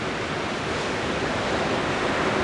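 Short, soft surf of about 50 cm breaks at Anglet beach in the morning, a steady broadband roar with wind buffeting the microphone and no voices.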